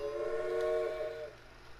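A steam-era locomotive whistle in the Railway Empire game sounds once as a sustained multi-tone blast lasting about a second, fairly loud over low rumbling background noise.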